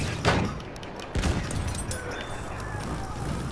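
Gunfire in the first-person shooter Battlefield 1, with two sharp loud shots followed by a dense crackle of distant fire and game noise that fades into a steady background rumble.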